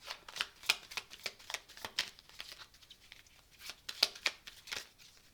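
Tarot cards are shuffled by hand in a quick series of crisp riffling bursts and flicks, close and fairly soft, in an otherwise quiet room.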